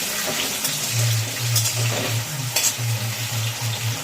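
Potatoes frying in a pan over lowered gas flame, a close, continuous sizzle broken by rhythmic scraping strokes as they are stirred around, with occasional clinks.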